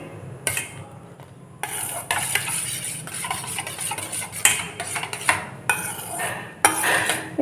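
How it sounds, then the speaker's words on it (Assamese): Homemade liquid dishwashing mixture being stirred steadily for several seconds, with repeated close scraping and clinking of a utensil against the container and short pauses between bursts of stirring. "এনেদৰে আপোনালোকে 5 মিনিটমান সময় লৰাই থাকিব।"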